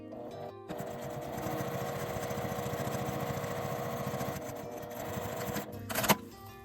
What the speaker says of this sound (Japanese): こちらも縫い代を長い方に倒して端を縫います。